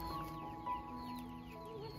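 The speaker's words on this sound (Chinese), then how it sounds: "这是小鸡。" Young chickens cluck and peep softly close by, a few faint chirps over a low steady background hum with no talking.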